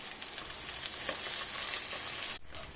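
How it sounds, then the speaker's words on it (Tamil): Masala spices fry in hot oil with a steady close sizzle and light crackle, broken by a sudden short dropout near the end, no voices. "நம்ம போட்ட மசாலா நல்லா பொரியுது."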